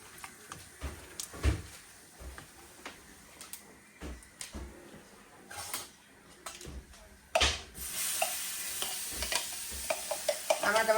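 Puree goes into a hot tempering of cumin, asafoetida and turmeric, bursting into a louder sizzle midway, with scattered spoon scrapes and clunks against the pan before and after.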